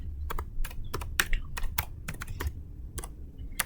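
Typing on a computer keyboard while entering network switch VLAN configuration commands, a close, brisk run of distinct key clicks in uneven bursts, with no voice over it.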